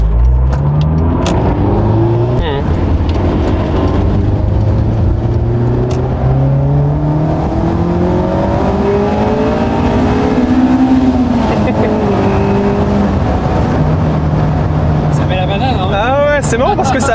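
A loud Honda S2000 engine revs and climbs through the gears, its pitch sweeping upward repeatedly, with people talking over the roar.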